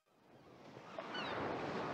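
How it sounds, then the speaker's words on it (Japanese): Ocean waves on a beach in the game Tokimeki Memorial GS4: a soft wash of surf swells up from near silence into a steady roar, with a faint high chirp partway through and no talk. "今日はいい波来てんな。"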